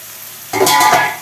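Prawn and broad bean curry sizzles loudly in a hot pan as it is stirred, a sudden burst of frying hiss with scraping stirs lasting under a second.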